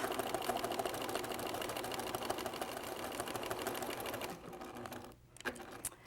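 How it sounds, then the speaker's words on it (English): A sewing machine stitches around a marked quilt pattern line to perforate it, a fast, even, close rattle of needle strokes that runs steadily, then slows and stops in short bursts near the end. "I've stitched around the whole pattern, perforating the line, or mostly on the line"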